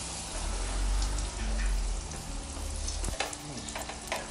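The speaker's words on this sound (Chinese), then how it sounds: "卤鱼片下去煎，" Sea bass fillet seasoned with Louisiana-style spice sizzles steadily in a preheated skillet with a little oil, a close, continuous frying hiss with a brief clatter near the end as the pan is moved.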